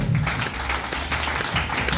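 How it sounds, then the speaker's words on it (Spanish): A church congregation at a pastor's seminar claps together in dense, sustained applause that fills the whole span. "Denle un aplauso a Dios."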